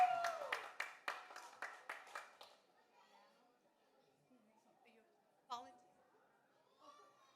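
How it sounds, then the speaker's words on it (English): Brief applause from a small audience at a Vegan Day gathering, about eight sharp, close claps in quick succession that stop after two seconds, followed by quiet room sounds, a single clap and faint voices. "Give a round of applause to you guys."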